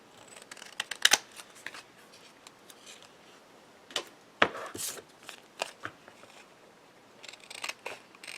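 Scissors trim excess paper from a greeting card panel, giving a few scattered snips and paper rustles at moderate, close range with quiet gaps between cuts.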